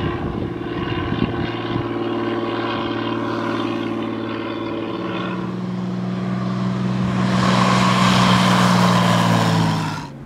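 A Mahindra Airvan 8 propeller aircraft drones steadily in flight, heard from inside the cabin, with a sustained engine hum that swells louder toward the end.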